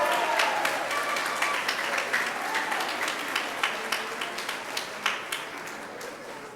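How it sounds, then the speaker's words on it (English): A school audience at a fifth grade graduation claps for students winning a Silver Award, a dense steady round of applause that slowly thins into scattered claps near the end. "let's give these boys and girls a big round of applause for winning the Silver Award"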